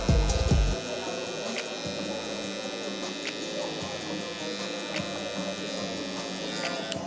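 Electric hair clippers, lever closed, buzz steadily and close up while cutting the bald line of a burst fade mullet. Someone talks faintly over the hum.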